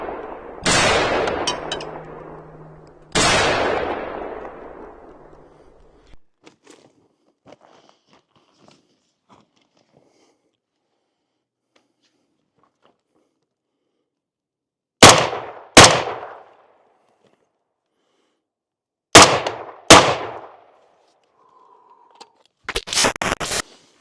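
Rifle shots crack out in a loud, sharp sequence with fading echoes: two early reports, a quiet stretch, then paired shots and a final burst at the end. The rounds are fired at a steel target, and no impact ring stands out.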